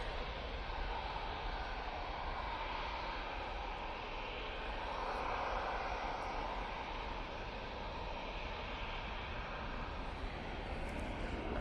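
A jet aircraft taxiing at Manchester Airport, heard as a steady, broad engine roar and whine at moderate distance, constant throughout with no talk.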